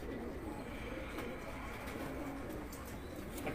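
Pigeons cooing and calling at a loft during a pigeon-flying competition show, a steady low murmur of birds close by over constant outdoor background noise.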